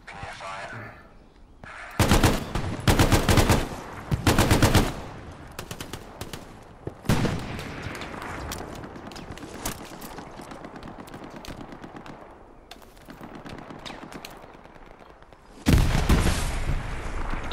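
Loud bursts of automatic gunfire in the World War II shooter Hell Let Loose, several long rattling volleys and sharp booming shots close by, separated by quieter stretches of distant battle noise and a speaking voice.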